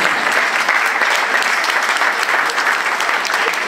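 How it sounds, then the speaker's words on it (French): A crowd at an art exhibition opening applauds a prize winner, with even, sustained clapping from many hands, moderately close and continuous throughout. "On peut l'applaudir, hein?"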